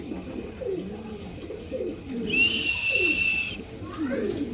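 Breeding pigeons at a sale cooing repeatedly in low, rolling phrases, close and clear, with a thin high whistle-like tone rising partway through and faint background noise.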